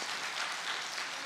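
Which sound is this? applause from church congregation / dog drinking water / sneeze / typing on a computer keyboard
applause from church congregation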